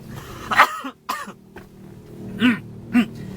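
Several dry coughs, close and fairly loud, come in irregular bursts with short quiet gaps and a faint hum beneath.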